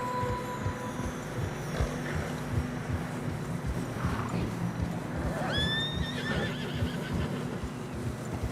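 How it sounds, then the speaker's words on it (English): Horses whinny and neigh while hooves plod through fresh snow on a narrow trail in Red Dead Redemption 2, set against a constant windy outdoor ambience. "Horses are struggling."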